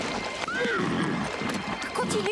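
A horse whinnies loudly in a muddy marsh, its rising and falling neigh clear and close, while hooves clop and squelch beneath it in the short burst.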